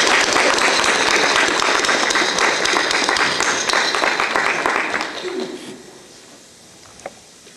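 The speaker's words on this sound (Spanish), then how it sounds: "con eso un fuerte aplauso" Audience applause at a UNAM literacy certificate ceremony in Zacapoaxtla, loud and dense for about five seconds before fading out, ending with a lone faint clap.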